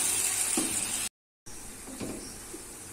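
Onions frying in a pan for mutton korma, a steady bright sizzle with soft stirring scrapes, briefly cut to silence before the sizzling resumes.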